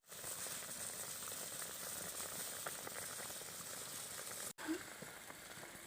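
Semolina gulab jamun simmer in sugar syrup in a home kitchen, a soft continuous bubbling under steady hiss, fairly faint, with a brief dropout and a small clink near the end.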